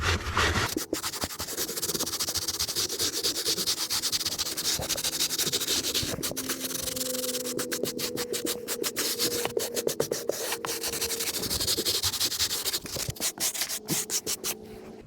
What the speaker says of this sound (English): Got a little nylon brush here. I'm gonna agitate this pretty good.